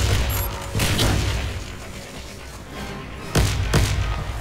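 A grenade blast in the Warface shooter during a team deathmatch, with sharp booming explosions and gunfire bursts punctuating a noisy battle, one heavy hit near the end standing out loudly.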